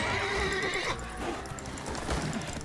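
A horse in The Witcher 3 neighs loudly with a rising whinny, then hooves clip-clop in a steady trot beneath game ambience.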